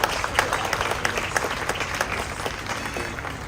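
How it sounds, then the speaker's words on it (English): Crowd applause at an outdoor anniversary ceremony for the 1906 San Francisco earthquake and fire, a steady patter of many hands with sharp individual claps standing out near the listener. "So let's give them all a round of applause."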